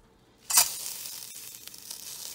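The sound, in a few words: sautéing coriander leaves with urad dal in a pan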